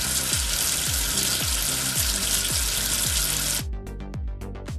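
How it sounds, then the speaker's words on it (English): Continuous running water rinses soap off a number in a children's game, rushing loudly and steadily over a bouncy musical backing before cutting off into the music alone. "Wash away the soap with water."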